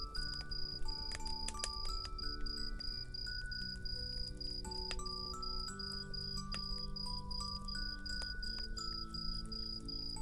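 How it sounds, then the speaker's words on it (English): Crickets chirp steadily and densely at close range, a continuous high trilling chorus with no talking. "Just a curious cricket"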